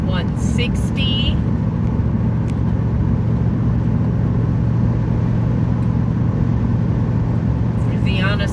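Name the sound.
car driving down a road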